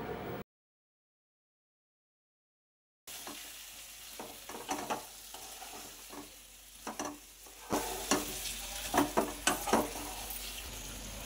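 Masala paste for ridge gourd curry sizzling in a pan as it is stirred, with a short silence near the start, then crackling frying and scraping strokes that grow louder and more frequent toward the end.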